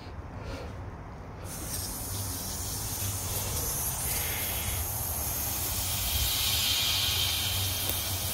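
Compressed air blowing out an in-ground sprinkler system, a steady, loud rushing hiss that builds after a short quieter start and then holds continuously.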